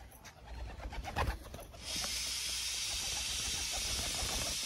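Pigeons gather at a plate of feed, making soft cooing and rustling before a steady airy flutter of wings takes over.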